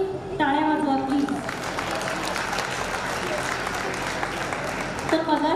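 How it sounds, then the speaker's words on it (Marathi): An audience breaks into sustained applause at an award ceremony, a dense, even clapping that fills several seconds, with a voice speaking briefly before and after it. "शिल्पासाठी टाळ्या वाजवा प्लीज"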